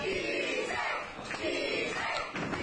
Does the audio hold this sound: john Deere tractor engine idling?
no